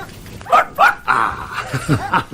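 A dog in a radio drama giving a series of short barks and yips, close and fairly loud, with a voice murmuring between them.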